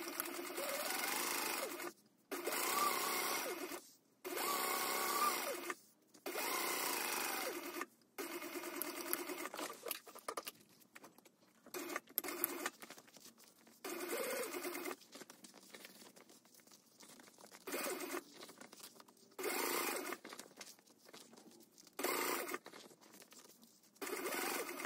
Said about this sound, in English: Stitch them together with a 3/8 inch seam allowance